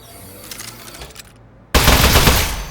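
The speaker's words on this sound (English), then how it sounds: "Presenting the Aperture Science Turret." An Aperture Science Turret in the video game Aperture Desk Job opens fire: after a quieter stretch and a brief silent gap, a loud, sustained rapid-fire burst erupts and continues steadily to the end.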